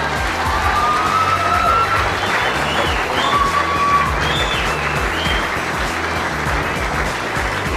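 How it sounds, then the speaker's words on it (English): A large crowd at the 2000 Magarey Medal presentation for Australian football gives a steady, sustained round of applause with a few cheers, dense and even throughout with little speech over it. "another huge round of applause."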